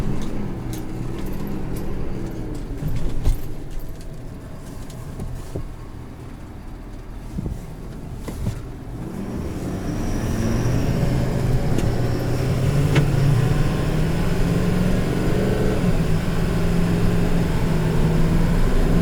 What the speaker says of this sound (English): let me actually put it in drive, and let's go for a drive.